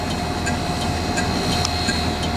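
A farm planter's engine idles steadily at a farm, a constant low rumble with faint rattling, heard alone and at moderate distance.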